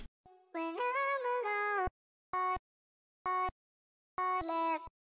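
Dry, unprocessed vocal chops for an electronic track: a long sustained sung phrase, then short clipped syllables in a sparse stop-start rhythm with silence between, close and clean.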